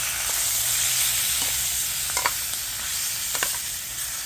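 Vegetables sautéing briefly in olive oil in a pan, a loud steady hiss of frying with a few short scraping stirs and clicks, no voices.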